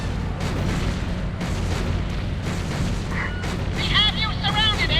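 Gunfire aimed at a marble Abe Lincoln in the Sam & Max adventure game, heard as a dense run of booming shots and impacts amid loud action effects, with voices talking over it.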